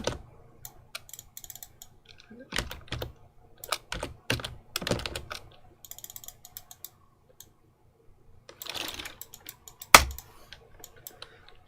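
Computer keyboard typing comes in irregular bursts of close, crisp key clicks, separated by pauses, with one sharper louder tap near the end.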